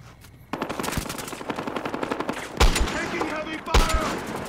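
Heavy automatic gunfire from the video game Battlefield Hardline rattles in a fast, loud, continuous burst, punctuated by two heavier booming shots or impacts.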